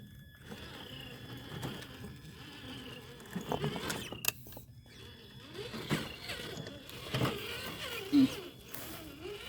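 A Holmes Hobbies Trailmaster 550 can motor drives a TRX4 Bronco RC crawler, giving a thin, wavering electric whine that rises and falls with throttle, alongside scattered clicks and knocks from the truck crawling over terrain.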